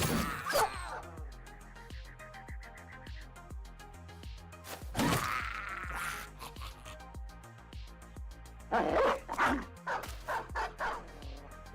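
Dogs in a video game barking and yipping in several short bursts with whimpers, loud and close, with gaps of quieter background between.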